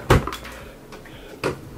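A dorm room drawer slides open with a loud wooden thump and rattle up close, followed by a softer scrape and a second knock a moment later.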